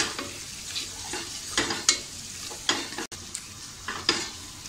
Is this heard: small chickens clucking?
no